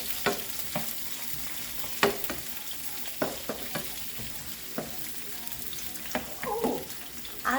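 Bite-sized sausage pieces and a whole onion sizzle steadily in a pan, with scattered clinks and scrapes of stirring over the hiss, close and moderately loud, with no talking.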